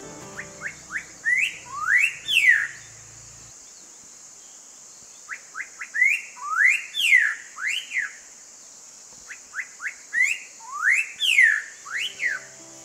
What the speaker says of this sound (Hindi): कई बार पक्षी गाते भी हैं